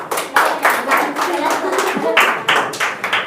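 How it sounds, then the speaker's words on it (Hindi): Students in a Hindi grammar class clap for a classmate, a quick run of close, sharp handclaps with voices faintly mixed in. "बजाओ इसके लिए ताली से।"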